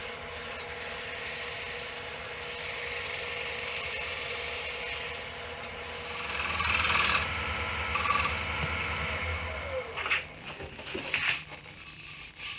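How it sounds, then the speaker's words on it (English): Rag or pad rubbing finish into a wooden bowl spinning on a lathe, a steady close whirring hum with dry friction that grows louder and scratchier partway through, ending in a few uneven rubs. "I'm basically just going to burnish it into the wood"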